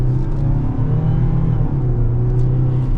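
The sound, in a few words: 2026 Mazda CX-90 PHEV plug-in hybrid accelerating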